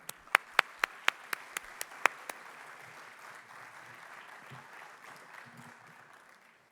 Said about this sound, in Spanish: Con este aplauso les damos la bienvenida.